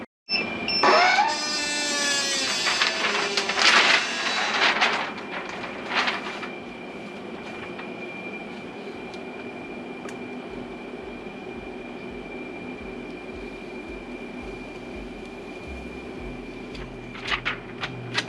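A Silhouette Cameo 4 cutting machine slices a design, starting with loud, busy mechanical whirring and sliding strokes for several seconds, then settling into a steady, quieter motor hum with a faint whine and a few brief movements near the end.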